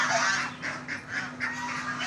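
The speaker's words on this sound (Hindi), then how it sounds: "ये जो है ना बतखें हैं" Ducks in an animal enclosure give a short run of nasal, honking quacks, several calls in quick succession, fairly close with no speech.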